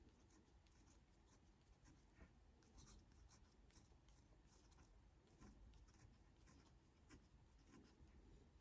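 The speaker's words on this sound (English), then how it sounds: "And then you're going to write the date." A pen scratches across paper, writing out a date in faint, soft, intermittent strokes close by in an otherwise quiet room.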